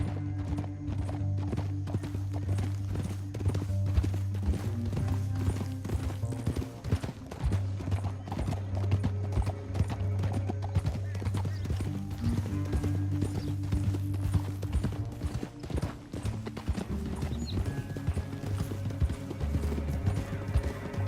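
Horse hooves clip-clopping in the video game Red Dead Redemption 2, a steady rhythmic clatter under a loud orchestral score, with an occasional whinny and no talk.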